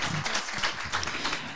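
Audience applause at a CES 2025 event at the École supérieure du digital, a short steady burst of clapping from a crowd indoors.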